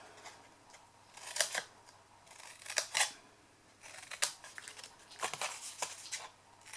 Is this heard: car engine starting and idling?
no